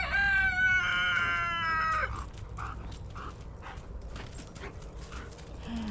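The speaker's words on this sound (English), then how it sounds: "the roosters are so daggum mean" A rooster lets out one loud, close crow lasting about two seconds. Softer clucking, scuffling and rustling follow.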